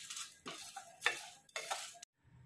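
Mustard seeds and dried chillies dry roasting in a pan for olive pickle, heard as close scraping and stirring strokes with light crackle, several bursts over a couple of seconds before stopping.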